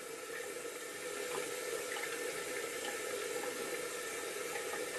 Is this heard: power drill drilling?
no